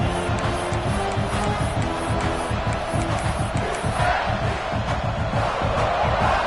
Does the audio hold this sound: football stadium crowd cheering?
yes